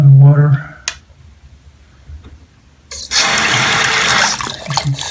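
A sink faucet with a clogged aerator is turned on, and water suddenly gushes and splashes steadily into the basin after a few seconds of quiet, loud and close.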